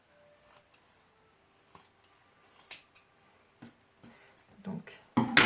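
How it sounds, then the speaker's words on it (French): Scissors trimming the excess material off a small handmade Christmas basket, with a series of sparse, separate snips and clicks that grow louder toward the end. "Et maintenant, on va couper ce qui dépasse."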